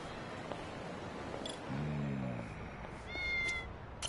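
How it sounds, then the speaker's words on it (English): A cat meows twice in the video game Lost Judgment against steady background noise, one low drawn-out cry and a later higher one, with faint clicks between. "Now I'm definitely hearing a kitty."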